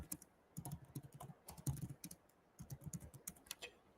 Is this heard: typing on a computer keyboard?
yes